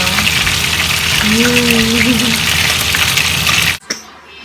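Tilapia frying with garlic in hot oil, a loud, steady sizzle that cuts off abruptly near the end, with a brief voice-like murmur partway through.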